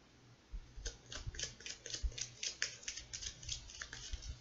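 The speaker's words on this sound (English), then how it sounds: "I'm going to shuffle this deck 2 more times" Deck of tarot cards being shuffled by hand, a quiet run of quick riffling flutters and soft taps in an irregular rhythm, close and faint.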